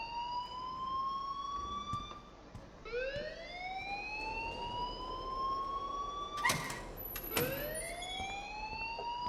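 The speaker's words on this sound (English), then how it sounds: "please turn off that alarm since that's your job" In the game Life is Strange, an alarm wails in rising, siren-like sweeps that repeat about four times. The tone is loud and tonal, with a couple of sharp clicks between the swoops.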